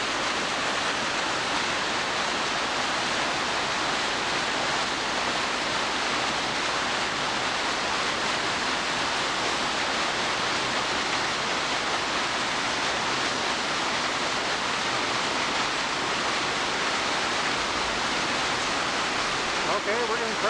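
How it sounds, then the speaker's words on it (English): A large waterfall in Silverton, Colorado pours down in a steady, dense roar of rushing water that holds at the same loudness throughout, close and unbroken. "And then we got another major waterfall here."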